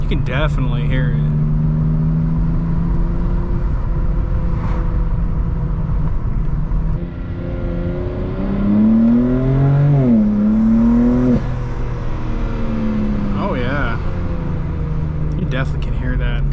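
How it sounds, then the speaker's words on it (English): Twin-turbo S58 engine of a 2025 BMW M4 Competition fitted with ARMS Motorsports intakes, heard from the cabin as it cruises and then revs through gears with a rising, whooshing drone, while people talk throughout. "So you guys can just hear pure turbos."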